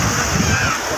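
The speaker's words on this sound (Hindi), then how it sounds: "ये लहरें आकर के कुछ इस तरह से पैरों को छू रही है" Sea waves wash and splash around the feet of someone standing at the water's edge on a Goa beach, a close, continuous sloshing surf with faint voices mixed in.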